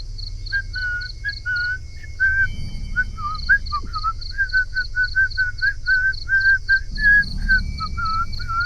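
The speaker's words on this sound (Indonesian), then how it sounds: "Ada yang siul sumpah." Short whistled notes repeat again and again at a steady pace, clear and fairly near, outdoors at night after rain, over a low rumbling background with high insect-like trilling.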